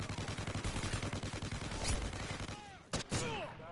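Call of Duty gunfire rattles in rapid bursts from a doorway firefight down an alleyway, loud repeated shots that stop and then give way to a few sharp single cracks, with players talking over the action.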